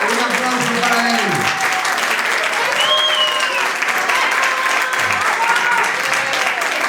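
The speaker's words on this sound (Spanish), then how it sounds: "Un aplauso para él." Applause for a jota champion at an Aragonese jota festival, steady crowd clapping filling the whole stretch, with voices and cheers mixed in beneath it.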